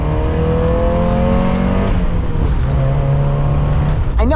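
A Mazda Miata engine drones steadily while the car cruises along a road, with shifting harmonic tones as revs change and a gear change near the end, close and loud from inside the car.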